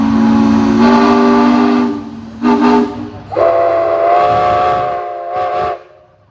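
A 1915 Frick 7.5 horsepower steam engine at a parade of power blows its steam whistle: a long, loud, steady blast, then several shorter toots at a slightly different pitch, heard close with no talk.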